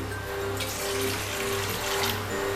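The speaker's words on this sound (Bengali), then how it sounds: "2 কাপ মতো জল এখানে আমি অ্যাড করে দিয়েছি" Roughly two cups of water going into a cooking pot for a semolina snack, a continuous close pouring and splashing with faint kitchen hum underneath and no talk.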